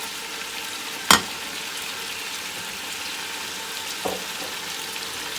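Mutton frying with turmeric, salt and ground spices makes a continuous soft hiss, interrupted by one sharp crackle early on and a fainter knock later.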